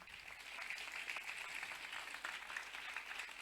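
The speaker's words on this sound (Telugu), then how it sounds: "మన స్టైల్లో చప్పట్లు కొడితే బాగుంటుందేమో" Applause from a Christmas gathering audience, a steady dense wash of many hands clapping at moderate distance, fairly faint and continuous throughout.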